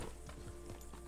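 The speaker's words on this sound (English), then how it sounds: "This stupid horse!" Horse hooves clip-clop in the video game Red Dead Redemption 2, a quick run of several soft, evenly spaced hoof knocks over a low steady hum, faint and brief with no talk.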